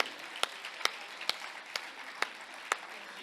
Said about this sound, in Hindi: ताली वाली बजा दो यार